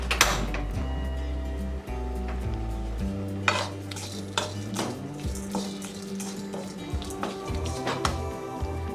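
Grated coconut is dry-roasted in a pan without oil, heard as close metallic scrapes and clinks of a spoon stirring against the pan over a low hum, with no speech.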